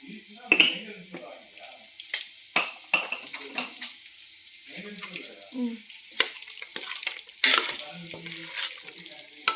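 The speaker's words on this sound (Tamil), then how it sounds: "இப்போ ஸ்லோவாக எல்லாம் இது பண்ணி வதக்கிட்டு நம்ம ஒரு மூடி போட்டு மூடிடலாம்." Chicken for seeraga samba biryani sautés in a pan, a light sizzle broken by repeated clinks and scrapes of a spoon against the pot, irregular and close.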